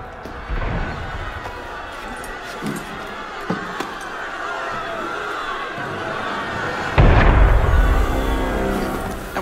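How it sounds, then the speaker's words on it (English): A cannon blast booms in Assassin's Creed Unity, a loud low-heavy impact near the end that follows a restless crowd murmur with scattered thumps. "That was cannon fire."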